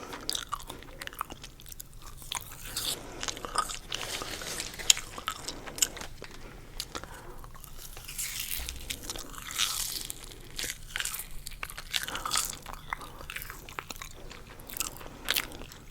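Food is bitten and chewed right up against a sensitive ASMR microphone, with repeated loud, sharp crunches and wet chewing in an irregular rhythm.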